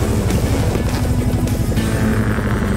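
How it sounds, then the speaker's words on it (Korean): A cartoon rescue helicopter lifts off with a loud, close, steady rotor chop and engine whine that fill the whole stretch, with no voices. "스카이, 네 차례야! 헬리콥터 스카이"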